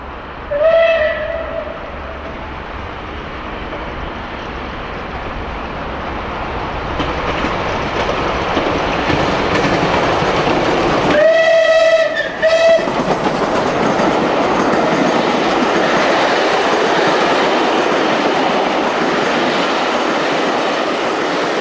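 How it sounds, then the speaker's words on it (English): Steam locomotive Clan Line hurries south through Eastleigh Station, a sharp whistle blast opening, then a steady rolling rumble and clatter of carriages building up close, with a second two-part whistle cut midway through the loud passing train. "Clanline comes hurrying south through Eastleigh Station on a sunny Sunday"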